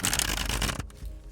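Tarot cards being shuffled up close, a dense riffling flutter for most of a second that ends in a soft tap as the deck settles.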